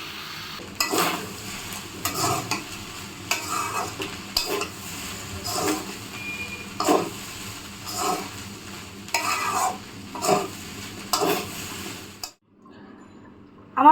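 Salted mixed vegetables stir-fried in a pan for fried rice, rhythmic scraping strokes over a constant sizzle, close and fairly loud, falling quiet just before the end.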